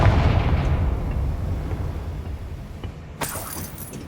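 A Confringo blasting spell goes off in Hogwarts Legacy, a loud booming explosion that rolls and decays over several seconds, followed by a brighter crackling burst near the end.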